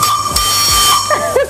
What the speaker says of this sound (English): I am about to pull the whistle